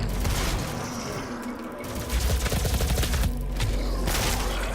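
Heavy blasts from a super shotgun in the Doom SnapMap video game mixed with game combat noise, several loud booming shots, the densest burst around the middle and the end.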